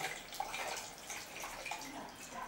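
A bidet's tap runs with faint, steady water splashing and occasional drips, heard quietly and alone without voices.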